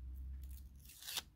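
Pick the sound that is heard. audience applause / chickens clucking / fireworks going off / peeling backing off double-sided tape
peeling backing off double-sided tape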